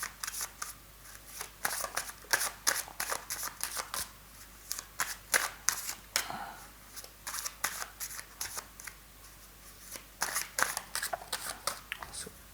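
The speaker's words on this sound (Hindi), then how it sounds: "तो हम करेंगे कार्ड्स को शफल और देखते हैं आपके लव लाइफ कैसी रहेगी" Tarot cards being shuffled by hand, a steady run of crisp, close riffling bursts repeating in quick rhythm, with soft background hum and no clear talking.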